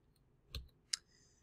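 Two quiet clicks on a Samsung Galaxy laptop, a soft low tap followed by a sharper, brighter click, close and isolated in near silence.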